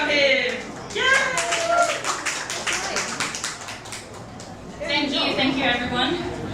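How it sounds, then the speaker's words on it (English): An audience at a gallery opening claps to welcome a performer in a dense burst of applause lasting a couple of seconds, heard close, with a person talking before and after. "So let's give him a round of applause to welcome him."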